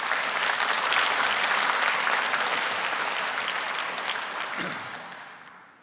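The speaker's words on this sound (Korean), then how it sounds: "우리 박수로 한번 환영해 주시길 바랍니다" A church congregation at Bethel Church claps in welcome for a deacon, a dense, steady burst of applause that holds strong and then fades away toward the end.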